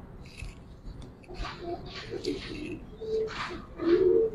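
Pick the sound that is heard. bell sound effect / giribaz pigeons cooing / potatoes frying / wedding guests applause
giribaz pigeons cooing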